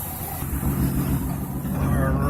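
Car engine idling during a coolant block test, a steady close rumble with a slight rise near the end, running under a speaking voice.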